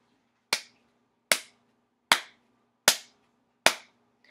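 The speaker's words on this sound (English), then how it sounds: "Do you think you can clap a nice," Hands clap a steady beat, five crisp, evenly spaced claps about a second apart, close and clear against near silence.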